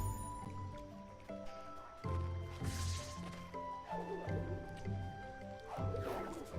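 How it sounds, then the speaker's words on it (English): Soft, wet squishy cartoonish sounds from a character getting hurt in Ori and the Blind Forest, several short blips over gentle game music and ambient water, quiet in the mix. "The sound he makes when he gets hurt is cute too."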